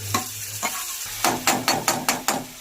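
Onions and tomato frying on a low flame being stirred: a run of quick, evenly spaced spatula scrapes against the pan over a soft sizzle, close and clear.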